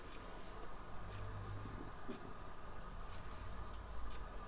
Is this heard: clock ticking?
yes